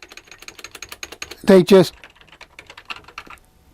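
Rapid clacking keystrokes on the keyboard of a ZX Spectrum 48K built into a Plus case, a steady close run of plastic key taps interrupted briefly by someone speaking, then the typing continues.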